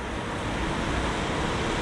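Sea waves on a coast near a city beside low mountains, a dense steady wash of surf mixed with wind noise, loud and continuous for a brief moment with no voices.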